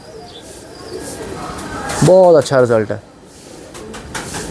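Pigeons from a long-kept fancier's flock of breeding males coo softly in the loft while someone speaks over them; the cooing is faint beneath the louder voice.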